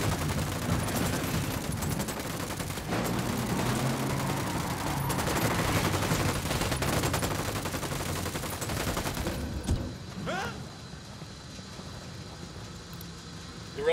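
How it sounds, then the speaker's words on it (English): Dense automatic gunfire in the video game Ghost Recon Wildlands, sustained bursts crackling loudly for several seconds before tapering off into quieter ambience. "We'll open fire on these shitheads."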